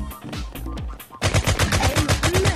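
Automatic gunfire in a VR shooter game: a few scattered shots at first, then a loud rapid burst of closely spaced rounds rattling on until the end.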